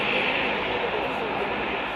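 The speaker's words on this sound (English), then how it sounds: "The planes take to the runway and begin to taxi out." Military airplanes of the Kenya Air Force taxi toward the runway, producing a steady, loud broadband engine roar that holds constant throughout.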